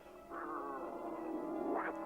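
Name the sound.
black cat meowing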